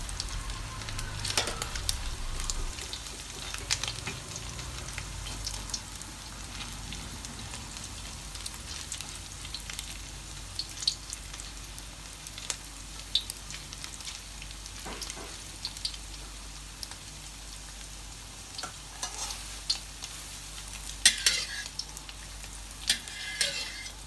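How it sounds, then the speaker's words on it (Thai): Flat round pork patties sizzle softly in a pan for an old-style Hokkien Chinese dish, a steady quiet crackle with occasional sharper pops and faint scraping, close and fairly faint with no talking. "เราก็จะทอดจนเนื้อหมูเป็นสีเหลืองสวยนะคะ"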